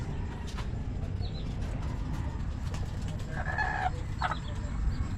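Chickens cluck in short bursts on a farm in the morning against a steady outdoor rumble, one louder call standing out near the end.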